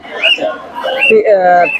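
Parrot chicks at the Mirpur-1 bird market give a few loud, close, rasping squawks in quick succession.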